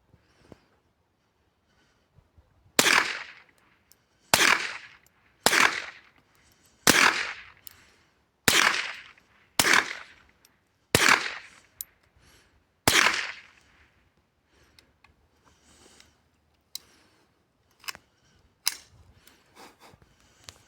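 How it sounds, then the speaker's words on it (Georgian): An Adler .22 LR rifle fires on a range at 25 meters: eight sharp, loud shots in a rapid, steady string, each with a short decay, followed by a few fainter scattered shots and clicks near the end. "სწრაფსროლაზე გადავიღებ."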